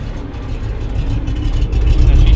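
Old carbureted vehicle engine just started after getting a good battery, running rough and loud with a low, uneven rumble that builds slightly, with no talk over it.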